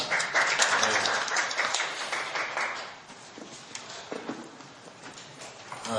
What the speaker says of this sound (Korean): 이호준 교수님 박수로 토론 청해 듣겠습니다